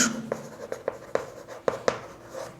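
Chalk taps and scratches across a board during a maths lesson, a close run of short, irregular strokes and clicks in a quiet room.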